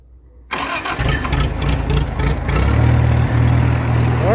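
A small gas engine on a restored John Deere JB disc setup fires right up after the fuel is turned on and the choke set, starting abruptly from silence and settling into a loud, steady running drone.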